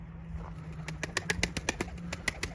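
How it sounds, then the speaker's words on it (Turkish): Several birds flap and land in quick succession in a coop, wingbeats clattering in uneven bursts over a low steady hum, fairly close by. "kuşlar indi"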